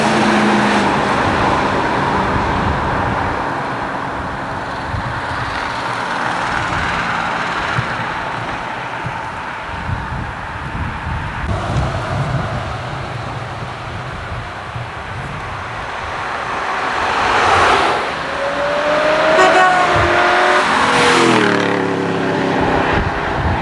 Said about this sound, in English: You can hear the motors revving.